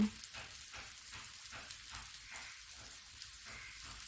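Pieces of jackfruit root fry in hot oil with a continuous, close crackling sizzle and fine popping hiss, steady and fairly quiet, with no voices.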